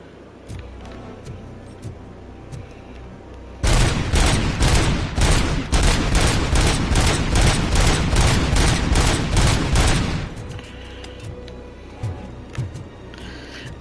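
Pistol fire in the Robocop video game, a rapid, loud string of sharp shots lasting several seconds, sustained and close, then cutting off into quieter game sound.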